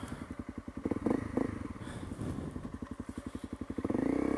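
A light, peppy 250cc dual sport motorcycle being ridden, its single-cylinder engine pulsing in a fast steady rhythm close to the microphone, revving up near the end.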